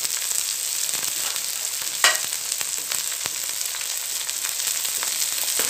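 Chana dal frying in a pan with tomatoes and green chilli gives a steady close sizzle and crackle throughout, with light stirring scrapes and one brief louder clatter near the middle.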